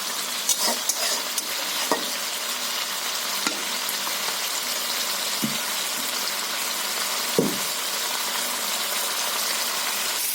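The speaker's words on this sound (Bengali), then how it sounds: "এইভাবে আপনারা মশলা ভেজে এবং মাছের সঙ্গে মাখিয়ে আপনারা রান্না করতে পারেন" Spices frying in a pan for a small koi fish curry, a steady loud sizzle with occasional scraping stirs throughout, no talking.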